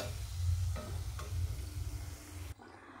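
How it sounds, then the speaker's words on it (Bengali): Semolina and yogurt biscuits frying in oil over a low-to-medium gas flame give a soft, even sizzle with a low rumble beneath, heard close and quiet with no talking, before it drops off abruptly near the end. "গ্যাসের ফ্লেমটাকে একেবারেই লো টু মিডিয়ামে রেখেই কিন্তু ভেজে নেব।"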